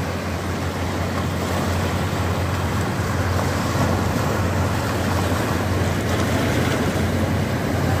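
Sea waves wash along the Mumbai shore in a steady, broad roar mixed with wind noise on the microphone, moderately loud and without talk.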